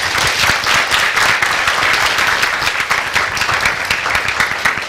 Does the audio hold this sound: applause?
yes